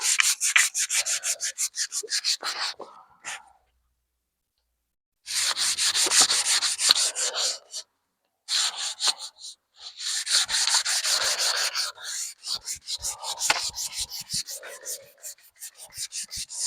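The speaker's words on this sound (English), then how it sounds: "then I'm going to sand it some" Steady back-and-forth sanding scrapes along the wooden handle of a fireman's axe, in bursts broken by two short pauses.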